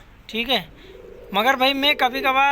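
A male pigeon beside a nest, where the female sits on two eggs, gives soft close cooing that is mixed in with someone talking.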